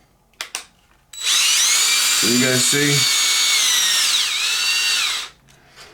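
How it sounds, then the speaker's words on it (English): A power drill drives screws during repair of a Traxxas X-Maxx RC car, giving a steady loud whine of about four seconds that dips and rises, with brief talk before it starts. "nice and quick when we got the drill"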